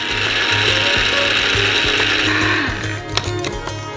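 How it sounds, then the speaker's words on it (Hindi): A coffee grinder whirs loudly and steadily as it grinds dried, cut pieces of vanilla into powder, then winds down into rattling clicks near the end. "उन्हें छोटे टुकड़ों में काटते हैं और इसे कॉफी ग्राइंडर में भेजेंगे।"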